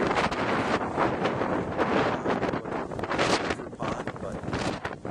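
Strong wind gusts buffet the microphone, a roaring, rumbling rush on a mountain trail up to Green Pond in Sun Basin, Utah. It runs steadily throughout with brief dips.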